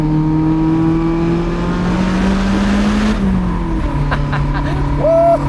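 A Lotus Elise engine drones loudly at high revs on a mountain pass, then the pitch drops abruptly as a fumbled shift into fourth gear catches, before the note rises again; a voice speaks over it briefly.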